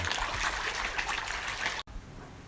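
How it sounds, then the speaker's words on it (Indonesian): Bubbling, trickling water churned by an aerator in a tilapia fish pond, a steady close wash of gurgling that cuts off abruptly near the end, leaving a quieter background. "Yang ini pakai aerator. Ini sama gelembung ada."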